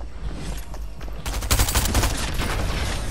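Shotgun fire in a video game: a rapid cluster of loud, sharp blasts strikes after a second of background rumble, with continued heavy gunfire noise under the rest, no voices.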